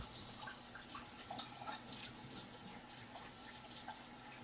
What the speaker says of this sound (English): I am washing my measuring spoons